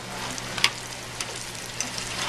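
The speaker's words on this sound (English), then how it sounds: "You can see that these eggplants are starting to crisp up nicely." Eggplant pieces frying in hot oil for a rigatoni melanzane dish, giving a steady, moderately faint sizzle with a few sharp crackles and pops scattered through it, and no voices.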